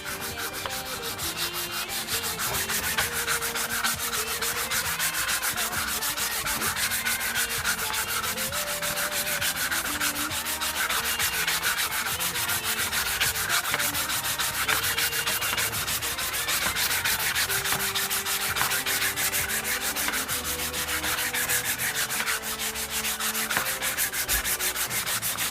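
A wooden bachi drumstick being sanded with 120 grit sandpaper, a steady continuous rasping rub that carries on without pause, close and alone with no voices.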